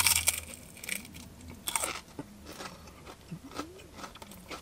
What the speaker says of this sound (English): The batter is so crunchy